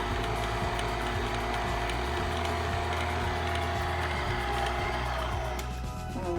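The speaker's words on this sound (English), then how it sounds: "I'm going to turn it up to 2 now" Electric mixer running at a steady speed while mixing a small amount of shortbread dough, a continuous loud mechanical whir with a faint rhythmic ticking throughout and no talking.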